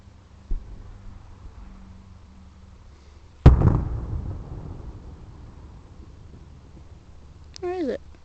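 A single firework blast lands as a loud boom with a rumbling tail at middle distance, after a softer earlier pop, with a whistling rise near the end.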